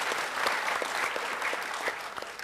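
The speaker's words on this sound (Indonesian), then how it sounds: "Tepuk tangan semuanya," Audience at a talk-show style gathering claps together, a dense, steady burst of applause from a nearby crowd with no voices over it.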